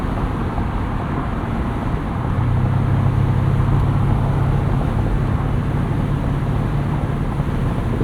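Steady broadband road and wind rumble inside a 2007 Mercedes-Benz SL550 cruising on a highway, continuous and even, with no talking.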